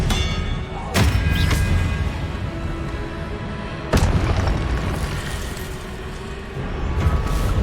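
Confringo blasting spells burst in the Hogwarts Legacy video game, two heavy booms about three seconds apart amid loud continuous combat noise and a dense, roaring game soundscape.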